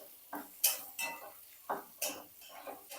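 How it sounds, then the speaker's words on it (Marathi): Chopped ridge gourd stirred in a pan with garlic and cumin, heard as a series of close metallic scrapes and clinks of a spoon against the pan, roughly eight strokes in an uneven rhythm with no voices. "तो दोडका ह्याच्यात घालून घ्यायचा एक मिनिट ह्याला छान परतून घ्यायचं"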